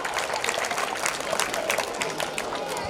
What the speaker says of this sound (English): Students, once again clap for this melodious song.